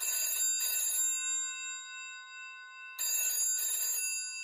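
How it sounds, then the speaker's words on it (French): An old-style telephone rings with two bursts of bright, metallic double rings separated by a pause, loud and close, with no talk over it. "Un jour, Marcel reçoit un étrange coup de téléphone."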